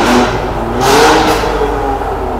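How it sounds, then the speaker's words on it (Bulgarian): An Alfa Romeo car engine revs loudly close by, rising and falling in a throaty roar with a rushing whoosh as it passes. "Тези шумни алфи."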